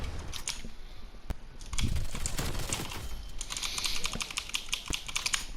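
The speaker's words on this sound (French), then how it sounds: "mon clavier c'est un mécanique. Donc ça fait beaucoup de bruit" A mechanical computer keyboard being typed on rapidly, crisp clicky keystrokes in quick irregular bursts, close and fairly quiet, with no talking.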